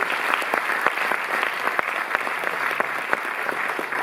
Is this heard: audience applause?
yes